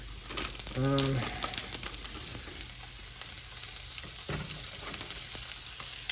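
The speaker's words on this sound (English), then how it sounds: "I'm gonna get the patties seared off first before I mess with the vegetables" Partly frozen beef patties for Salisbury steak sizzle and crackle steadily in a hot pan, a continuous frying hiss with brief scraping and shifting, joined by a short tonal squeak and talk in the background.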